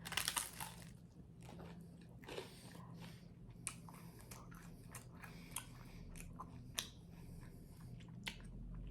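Crunchy garlic bread from a store being bitten and chewed close to the microphone, with sharp crackling bites followed by a series of irregular crunches and soft chewing in a quiet room.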